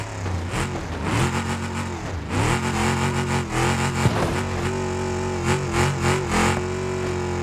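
A car engine revs hard while climbing a ramp during an SUV ramp test, a strained mid-pitched drone that surges and dips repeatedly, loud and close.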